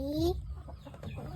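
Rhode Island chickens cluck close by in a short burst, a couple of sharp calls followed by lower murmuring clucks.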